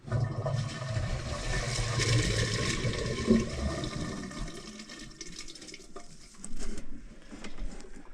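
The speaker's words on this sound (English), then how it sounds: "Can you flush the toilet?" A toilet flushes nearby in a home where a drain is clogged with heavy tree roots, with a loud rushing gush of water that swells and then drains away in gurgling swirls.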